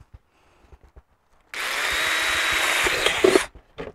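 An electric drill whirs steadily for about two seconds, close and loud, drilling holes in a wicking bucket, with a few soft knocks and handling sounds before and after.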